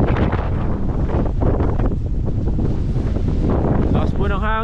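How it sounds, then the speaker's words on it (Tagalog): Steady, heavy wind buffeting the microphone, a constant roaring rumble, with a voice speaking briefly in Tagalog near the end. "Lakas po ng hangin, parang babagyo, uulan."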